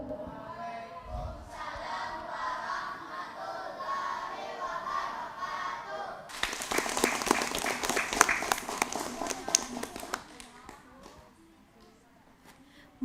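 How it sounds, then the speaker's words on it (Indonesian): After a voice speaks over a murmuring room, a studio audience bursts into brisk, dense applause for a children's nasyid performance, holding for about four seconds before fading back to quiet. "Tepuk tangan dong sekali lagi"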